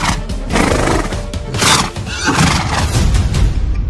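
A horse neighs loudly and at length, a strained, shaking whinny filling the whole moment, within a narrated Portuguese ghost story in which a spurred horse balks and refuses to move on a road.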